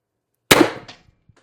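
One sharp, loud shot from a homemade X-68 Storm Trooper air gun running at about 800 PSI, a sudden crack that decays quickly into a short metallic ring and faint after-clicks.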